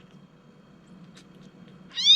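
A kitten gives a single rising meow near the end, loud and close, after a quiet stretch with only a low background hum.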